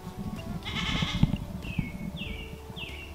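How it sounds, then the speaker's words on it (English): Young goat kids bleat in a farm pen, one loud wavering cry followed by several shorter high-pitched bleats, with shuffling and light thumps in the background. "There's the tiny goat!"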